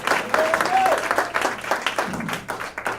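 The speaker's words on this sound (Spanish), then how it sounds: "Y de una ofrenda de palmas y diga amén." A church congregation claps and applauds during a service. The clapping is a steady, lively wash of many hands, with a voice speaking over it.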